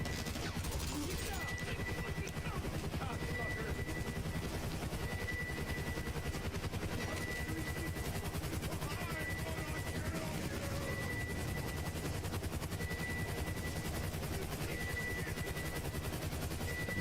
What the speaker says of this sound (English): I'm shooting the missiles at the other helicopters